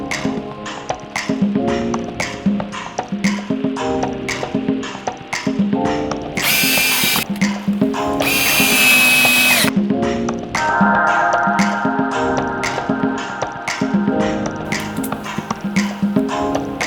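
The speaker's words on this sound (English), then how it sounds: "screwing them all into the fiberglass and getting this thing finished" A power drill drives stainless steel snaps into fiberglass on a sailboat. Rapid ratcheting clicks run throughout, broken by two bursts of high whirring, and then a steadier mechanical whine follows.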